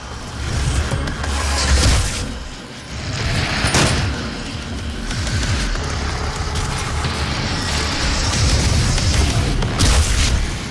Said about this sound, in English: You explode for some reason.